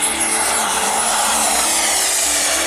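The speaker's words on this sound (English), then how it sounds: "has got a 65-inch wingspan and is powered by a JetCat 140P" A remote-control F16 jet with a 65-inch wingspan, built of wood and fiber and powered by a JetCat 140P turbine, gives off a loud, steady, high-pitched turbine whine and roar.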